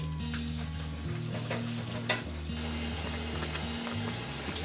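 Handmade noodles rinsed under running water, a steady splashing hiss that continues throughout beneath light background music.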